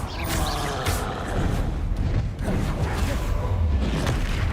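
Confringo fire spell blasts in Hogwarts Legacy: loud, continuous booming and whooshing battle noise with several sharp bursts and a dense low rumble throughout.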